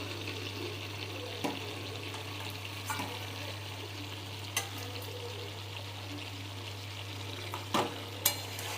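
A pan of Bengali fish curry (machh chorchori) sizzles steadily while reducing to dry out the gravy, a continuous close frying hiss with a few brief clinks, no talking.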